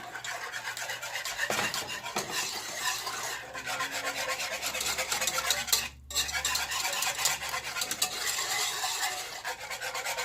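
A metal whisk scrapes and rasps continuously against a pan of vegan, gluten-free gravy with stock, harsh and close, with a brief pause partway through.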